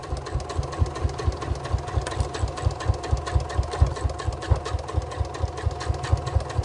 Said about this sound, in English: Can anybody else hear the squeak on my sewing machine?